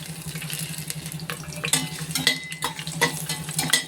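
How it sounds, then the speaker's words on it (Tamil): Whole spices (cinnamon, cloves, cardamom) crackle and pop in hot oil for vegetable biryani, with an irregular run of sharp little snaps over a steady sizzle and a low background hum. "இது வந்து பட்டை கிராம்பு ஏலக்காய் இது வந்து மேலே மேலே வெடிக்கும்"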